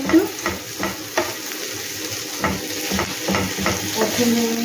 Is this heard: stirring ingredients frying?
yes